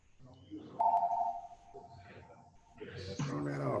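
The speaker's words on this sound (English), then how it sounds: "Damn phone's going on." A phone goes off during a PCB awareness training session, a single sustained electronic tone followed by other sounds, with people talking around it.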